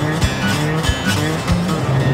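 A four-cylinder automatic car engine drives steadily, with a continuous low drone and faint tyre and road noise; no one speaks.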